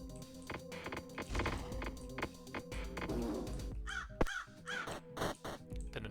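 A bird enemy in the action roguelike Orbs of Chaos lets out a few harsh crow-like caws near the end, heard over busy game music and clattering spell effects.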